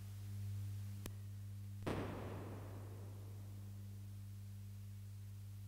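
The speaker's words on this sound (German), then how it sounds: "so klingt es, wenn man den Hall ausschaltet." An acoustic guitar pedal's reverb is switched off: a sharp click, then a second louder click with a brief noisy burst that decays over a steady hum.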